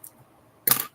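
Scissors snip through yarn once, a short crisp cut standing alone in a quiet room while a blanket border is worked.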